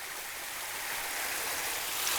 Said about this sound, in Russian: Такой маленький водопадик. И прям мостик сделан и стекает туда.